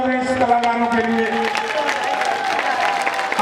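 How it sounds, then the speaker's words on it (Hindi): An audience claps loudly for performers of a Shiv ji jhaki during a Tara Rani katha, a dense continuous patter of hands under a sustained musical drone, with some crowd noise mixed in. "एक बार जोर से ताली बजा रहे इस कलाकारों के लिए"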